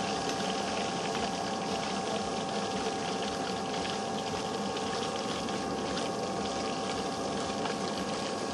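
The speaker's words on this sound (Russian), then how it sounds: "Вон видно, что пошла фильтрация." A pool filter runs with water flowing through it, a dense, steady rushing and bubbling that stays constant and fairly loud throughout, with no voices.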